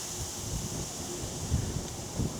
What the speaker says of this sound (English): Oh, glorious afternoon, a bit breezy as you can possibly hear